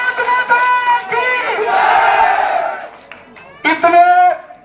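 A large crowd at an outdoor Congress campaign meeting in Jakhrana village, Rajasthan, chants Bharat Mata ki Jai in loud bursts of massed voices, with a leader's call between the bursts.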